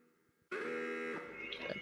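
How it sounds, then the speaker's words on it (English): An alarm blares in a tabletop roleplaying session, a steady loud buzzing tone that starts abruptly after a quiet moment and holds for over a second. "there goes the alarm"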